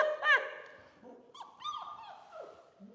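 Goldendoodle puppies whimper and yip in a series of short, high, close cries, with a few soft bursts spread across the moment and a faint voice in the background.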